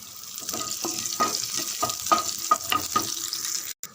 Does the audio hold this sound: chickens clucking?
no